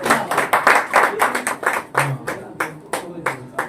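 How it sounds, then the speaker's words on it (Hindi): Audience clapping at a Republic Day music event as performers are honoured with garlands and bouquets, distinct near claps in a loose, uneven rhythm, each burst separate and punchy, with faint voices in the background. "जोरदार तालियां।"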